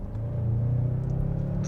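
Mazda CX-9's 2.5 litre turbocharged Skyactiv-G four-cylinder engine, a steady low rumble and hum from inside the moving car, even and unhurried with faint whir on top, no voices.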